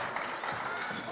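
Crowd at a December high school boys varsity basketball game between Holy Name and Lutheran West, cheering and clapping steadily in a short, fairly faint burst.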